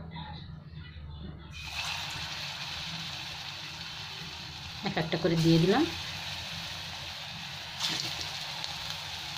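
Bottle gourd kofta balls are lowered one by one into hot oil on a gas stove; the hiss jumps up as they go in and settles into a steady bubbling sizzle, with a voice speaking briefly over it.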